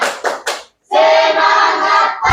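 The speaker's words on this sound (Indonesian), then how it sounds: "Tepuk semangat." An audience does a spirit clap: three quick claps, then a sustained burst of crowd clapping lasting over a second, fairly loud and close.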